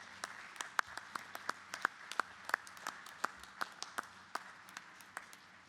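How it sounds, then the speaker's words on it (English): Graduates applauding their families at a university commencement ceremony: sparse, distinct hand claps from a few people, crisp and fairly faint, scattered irregularly across the clip in a large quiet space. "Please turn and applaud your families, friends, and loved ones and show your appreciation for their support."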